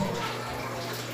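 Liquid marinade mix, with a sachet of magic syrup, pours steadily into a container for grilled stuffed squid, a continuous close splashing gush lasting about a second.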